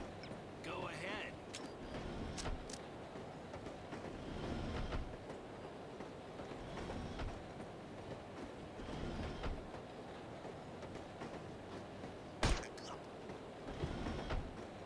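Train rolling on rails in No One Lives Forever, a continuous rumble with rhythmic clatter and a sharp metallic squeal or clank near the end, under people talking.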